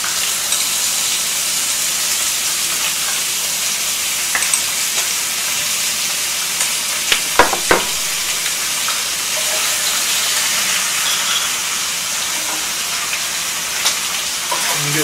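Kimchi fries in rendered pork belly fat, a loud, continuous hissing sizzle that stays steady throughout, broken by a few brief clatters of a utensil in the pan.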